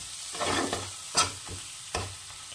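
Spice paste with turmeric and cumin sizzling in a pan for a fish curry, with a spatula scraping and stirring in a few irregular strokes over a soft, continuous frying hiss, close up and without talk.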